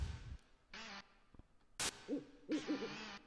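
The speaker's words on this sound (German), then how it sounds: "Halt's Maul, du blöder Uhu." An eagle owl in BigFoot Finders gives low hoots at night, several short calls spaced apart, mixed with a few sharp bursts of noise in a quiet setting.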